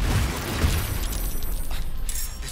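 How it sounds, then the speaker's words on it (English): A fire arrow sets off a chain of explosions in Baldur's Gate 3, heard as a continuous loud, rumbling roar of blasts with crackling debris that rolls on without a break. "the easiest way to do that was arrow fire on you and cause a huge explosion chain reaction"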